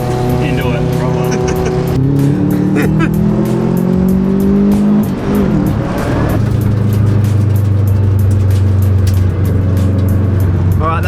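Rally car engine driven flat out during a Whiteline Rallysprint 2019 race, a loud continuous roar with shifting gear pitches and a brief lift near the middle, with voices talking over it.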